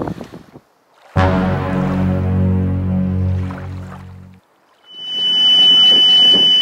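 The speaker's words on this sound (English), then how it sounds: "That's the sound of our engine overheating." A sailboat's engine overheating alarm: after a few seconds of low, droning engine hum, a piercing, steady electronic warning tone sounds loud and close over wind noise.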